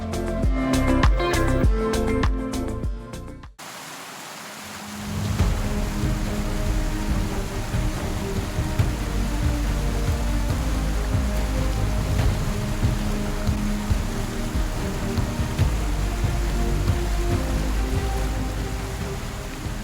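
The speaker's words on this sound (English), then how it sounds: "Rancheria Falls is a cascading waterfall with water tumbling down a series of granite steps and boulders." Rancheria Falls, a cascading waterfall tumbling over granite steps and boulders in a pine, fir and cedar forest near Shaver Lake, roars as a steady, loud broadband rush after a few seconds of music.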